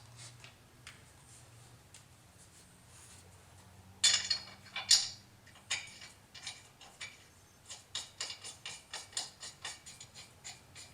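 Quiet workshop scene of lug nuts being removed from a wheel on a 1999 Jeep WJ: a burst of sharp metallic clanks, then a run of rapid ratcheting clicks and taps that come in quick repeated bursts.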